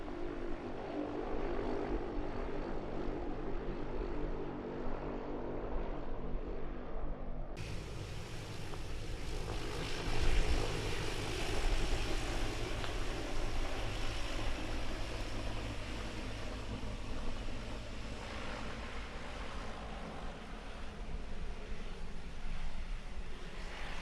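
A light aircraft's engine idles at tick over in flight, a steady broadband propeller drone with a hum underneath, close and continuous, shifting character partway through with no talking.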